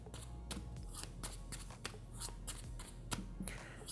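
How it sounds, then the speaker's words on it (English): Playing cards riffled and snapped in a fake shuffle and cut during a magic trick tutorial, a quick series of sharp crisp card slaps and flicks at close range, evenly spaced. "So that's fake shuffle, that's cutting the cards."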